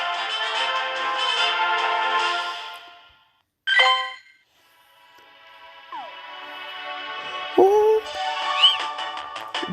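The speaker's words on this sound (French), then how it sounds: "petit minou." A cat meows at a Pokémon Go catch moment; a loud rising harmonic call sits between stretches of bright, ringtone-like game tones and chimes, with more tones and a sliding cry toward the end.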